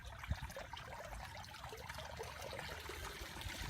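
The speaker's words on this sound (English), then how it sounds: "Here comes the water creeping up." Water trickling and splashing through the sponge and foam filter of an outdoor koi pond, a steady close wash of running water with no voices.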